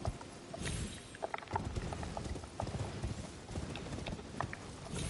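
Hooves clip-clop in a steady, fast rhythm as a horse gallops with a rider in the video game Elden Ring, fairly quiet and continuous, with a few faint clanks over it.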